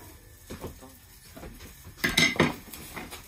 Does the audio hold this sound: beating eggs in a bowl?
yes